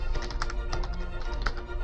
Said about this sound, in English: It gives a nice rhythm to that every time I bang the space bar.